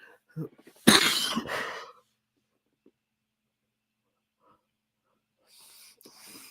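A single harsh cough bursts out close up, followed by silence and faint breathing or movement.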